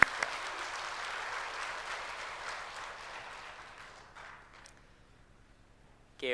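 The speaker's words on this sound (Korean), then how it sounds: "하나님께 영광의 박수 드리겠습니다." A church congregation applauds in a dense, steady burst of clapping that gradually thins and fades over several seconds, ending in near quiet.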